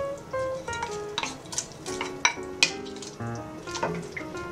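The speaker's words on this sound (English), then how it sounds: "I'm going to go ahead and put the shrimp in." Shrimp being added to a simmering pot of cioppino, bringing a series of soft clinks and taps of utensil against the pot over a low bubbling background, with scattered sharper knocks.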